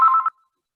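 A telephone gives a single short electronic ring, a clear steady tone lasting about a third of a second, heard alone and followed by silence.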